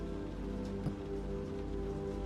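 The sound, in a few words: rain falling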